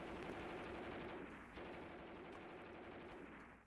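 Gunfire from the guns of WW2 tanks in the Mius Front war game rattles as a steady, dense barrage, muffled and fairly distant, with no talking.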